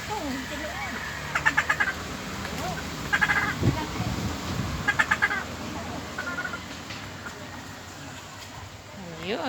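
Hen clucking noisily while laying an egg, repeated loud cackling bursts near the microphone, with people talking over and between the calls.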